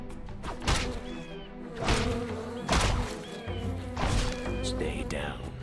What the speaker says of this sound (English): Giant effing wasps were not on my fantasy enemy list.